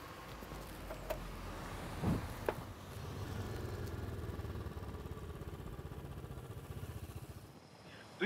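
A motorcycle engine runs with a faint, steady low rumble that starts a few seconds in and continues evenly before dropping away at the end, with no talking.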